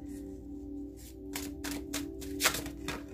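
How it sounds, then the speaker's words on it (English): Tarot cards being shuffled close by, several quick riffling bursts of paper flicking and slapping over a faint steady hum, no talking. "See, I'm shuffling again."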